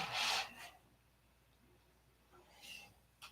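Epoxy fillets are hand-sanded in two separate rasping strokes, the first loud and close and the second softer, with a quiet gap between them.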